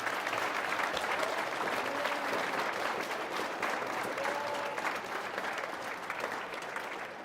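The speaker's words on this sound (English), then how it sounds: "let's give Mr. Carson one big round of applause here" Students at a Pro Football Hall of Fame program in Canton, Ohio give a long, steady round of applause, an even wash of clapping from a sizable crowd with a few faint voices.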